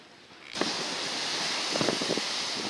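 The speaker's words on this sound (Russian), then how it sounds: "Как море бушует" Rough sea surf off the harbour coast of Kyrenia in Northern Cyprus, a steady roaring wash that rises suddenly and then holds, loud and close with wind buffeting the microphone, with a few heavier breaking surges.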